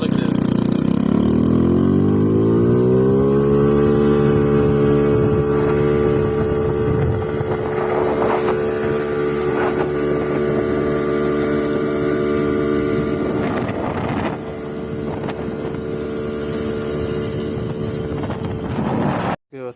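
A built moped engine with a race exhaust and bigger main jet revs up and holds a loud, buzzy, steady drone close to the microphone, with wind buffeting and the pitch rising early before settling.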